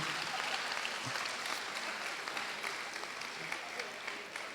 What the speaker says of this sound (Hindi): एक बार जरा मिलके तालियां बजा दीजिए